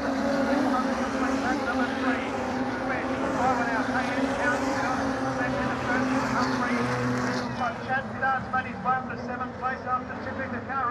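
Wingless sprint cars roar down the back straight at Bunbury Speedway, a loud, sustained engine drone that fades slightly near the end, with commentary running over it.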